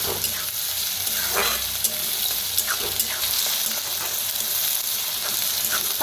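Onion, crushed garlic and green chilli frying in a pan, a continuous close sizzle with intermittent stirring scrapes and light spatter pops, no talking.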